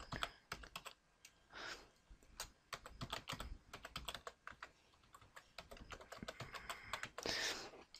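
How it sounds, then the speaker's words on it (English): Typing on a computer keyboard, with close, irregular bursts of clicky keystrokes and short pauses between runs, ending in a slightly louder flurry, with no talking. "Okay, so let me just type this in."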